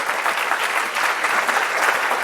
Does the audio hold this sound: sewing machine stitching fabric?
no